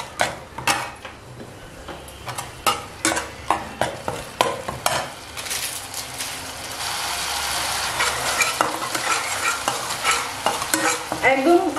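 Spice paste frying slowly on low heat in a pan for a spicy potato curry, with regular sharp scraping and stirring strokes over a soft, steady sizzle that builds toward the end; no talk.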